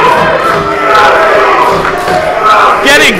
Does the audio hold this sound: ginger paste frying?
no